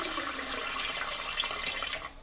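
A bidet with hot and cold water connections spraying water during its wash function, a steady soft hiss of running water that cuts off abruptly near the end.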